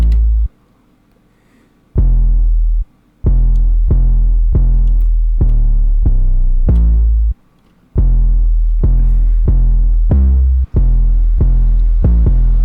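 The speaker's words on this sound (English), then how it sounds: "So the 808 sounds like this." A booming 808 bass in a plugg beat programmed in FL Studio, hitting as loud repeated low notes at full velocity in a syncopated rhythm with a few short gaps, heard alone without other instruments.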